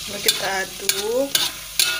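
Sambal with petai beans is stirred in a hot frying pan, a spoon knocking and scraping about four times at a steady rhythm over a soft sizzle.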